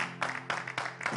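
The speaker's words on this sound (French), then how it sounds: "on va l'accueillir avec des applaudissements." Short bursts of clapping come from a small group welcoming a guest on a live French-language talk show, a few quick uneven rounds over a steady hum.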